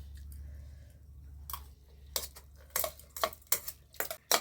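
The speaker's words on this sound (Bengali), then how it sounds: "এই যে মটর আলুর তরকারি দিয়ে মুড়ি খাচ্ছি" Someone eats puffed rice (muri) with pea and potato curry, giving close, irregular crunchy chewing bursts that grow more frequent over a faint low hum.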